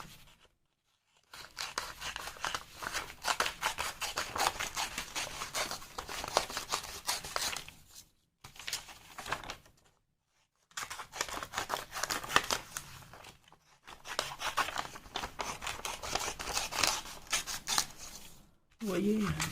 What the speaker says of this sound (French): Donc je vais découper ceci.